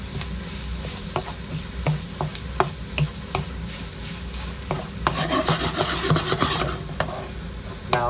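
Chicken kottu stirred over high heat, a steady close sizzle of frying with repeated scraping and clinking strokes of a utensil against the pan, growing busier toward the end.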